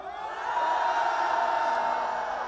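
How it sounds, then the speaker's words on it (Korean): A crowd of teenagers at a Korean political rally shouts together in a sustained, loud roar that swells, holds steady for a couple of seconds and then tapers off. "10대들 전방 함성!"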